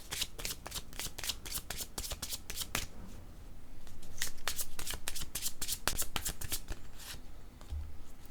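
Tarot cards shuffled by hand in a rapid, even run of crisp riffling flicks, close and steady throughout, with a soft thump near the end and no speech.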